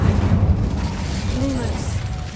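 An Incendio fire spell is cast in the Hogwarts Legacy video game, a deep booming burst that whooshes at the start and then rumbles and fades, with a faint whistling tone partway through.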